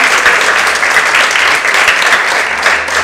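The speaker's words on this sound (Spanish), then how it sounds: "Un aplauso para ustedes, padres de familia." Dense, steady applause from an audience at a percussion ensemble concert and graduation in Miraflores, honoring the parents. The clapping is close and continuous for the whole stretch, with no voices standing out.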